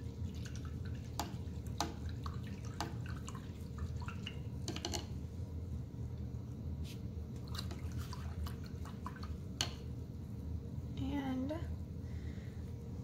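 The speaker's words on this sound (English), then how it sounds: "I'm going to rinse my brush out from that" A paintbrush is rinsed in a water cup during an acrylic painting session, making soft, scattered drips and swishes close by under a low steady hum, with a voice briefly heard near the end.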